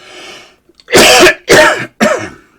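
A person coughing three times in quick succession, loud and close, each cough a harsh burst with brief pauses between, preceded by a faint murmur.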